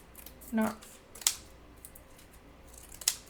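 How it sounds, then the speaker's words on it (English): Scissors snip out paper craft pieces for a decor project, with a few short, crisp cuts spaced apart, close and clear against a quiet room. "just kind of cut these out"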